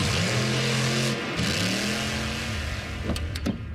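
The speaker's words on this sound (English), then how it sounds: "You can even stream it at a monster truck rally." A motor vehicle engine drones and revs steadily at mid pitch, loud and close, with brief clicks near the end; no talk.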